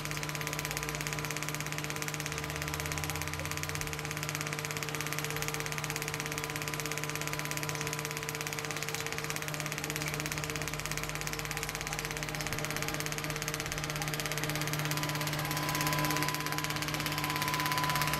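A 6 kW generator runs steadily after petrol has been separated out of its diesel fuel. Close, continuous engine drone with a constant hum and no changes in pace, alone without talk.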